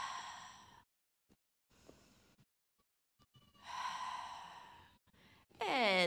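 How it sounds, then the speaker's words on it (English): Breathy exhales during a hip exercise, heard close and fairly quiet as several separate huffs with pauses between them, then a sharper breath at the end. "Exhale."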